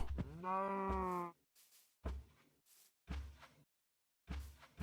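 A cow mooing in the video game Minecraft: one long, loud, drawn-out moo, then several shorter, fainter low sounds in an otherwise quiet scene.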